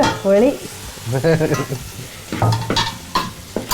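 Beef fry being stirred in a pan for a Kerala-style beef fry, with steady sizzling and scraping stir strokes close by, while a person speaks briefly over it.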